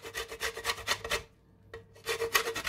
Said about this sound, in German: Ich mache das so, dass ich das auf diesen groben Teil ein wenig reibe